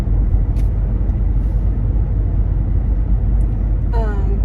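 Steady low rumble of a car driving home from Trader Joe's, continuous road and engine noise throughout with a brief tonal squeal near the end.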